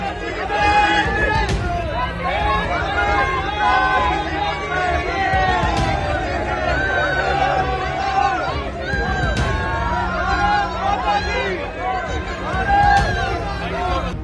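A large, dense crowd welcoming Prime Minister Modi abroad, a loud continuous roar of many voices with rhythmic surges that suggest chanted slogans, steady throughout with no quiet gaps.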